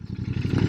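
Stock exhaust pipe of a Royal Enfield Bear 650 motorcycle, a low, close rumble of rapid, even engine pulses, heard alone for a brief moment.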